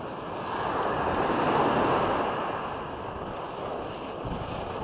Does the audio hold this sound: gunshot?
no